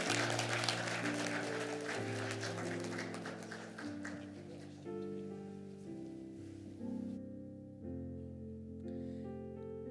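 A church congregation at a Sunday retirement service claps for a deacon's retirement plaque, a dense crackle of applause that fades over several seconds as sustained instrumental music takes over.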